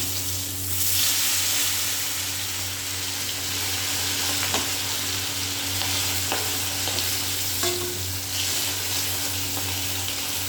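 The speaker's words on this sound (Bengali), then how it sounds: "মাছের এক পাশ ভাজা হয়ে গেছে" A flipped piece of fish fries in hot oil with a continuous, close, loud sizzle and a few faint utensil clicks.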